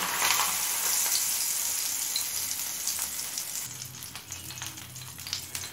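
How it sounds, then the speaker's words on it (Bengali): Hilsa fish wrapped in taro leaves hits hot oil tempered with black cumin, producing a loud, dense sizzle that slowly settles into a softer steady crackle with faint scraping. "এবার কচু পাতায় মোড়া মাছগুলো দিয়ে দেব।"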